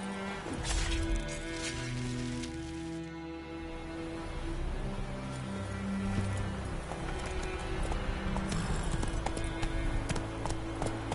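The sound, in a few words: horse hooves clip-clopping in a video game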